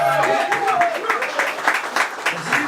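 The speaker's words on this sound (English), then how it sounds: "I'll clap it up" Clapping at a hip-hop launch party award moment for a DJ and producer, scattered hand claps under someone talking, uneven and moderately close.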